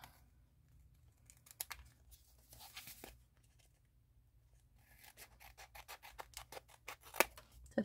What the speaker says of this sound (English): We're going to just cut this.